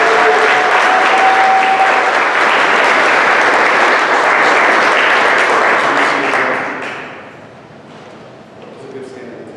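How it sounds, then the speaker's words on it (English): An audience at a 7th grade promotion ceremony applauds honor students, sustained loud clapping from a large crowd that tapers off after about seven seconds into quieter room noise and a faint voice. "Let's give a round of applause for our members of the Dean's List"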